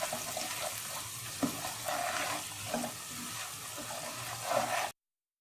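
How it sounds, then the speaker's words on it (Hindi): Semolina with cardamom is roasted in a pan, giving a soft continuous frying hiss broken by occasional scraping stirs from a spoon. "सूजी को भून लें।"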